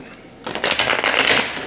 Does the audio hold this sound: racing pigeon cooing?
no